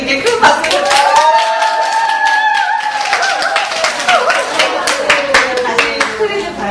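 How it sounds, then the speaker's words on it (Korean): Audience clapping for volunteers at a community cafe event, a steady patter of many hands running through the whole stretch while a voice carries on over it. "너무 수고해주신 백남동 봉사자님과 이서연, 김도원 봉사자님께 큰 박수 부탁드립니다."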